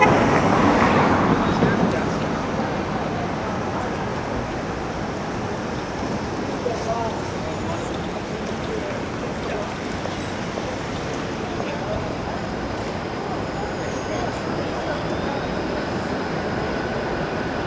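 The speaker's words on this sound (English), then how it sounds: "There's a Queen streetcar on Richmond Street." A Queen streetcar rolling along Richmond Street in Toronto's Financial District, a broad rumbling rush of rail and traffic noise among skyscrapers, louder at first and then a steady roar with faint high squeals.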